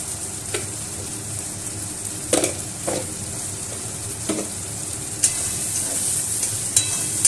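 Chopped tomatoes with salt sizzle steadily in a hot pan, with a few sharp scrapes of a spoon stirring against the metal; no one speaks.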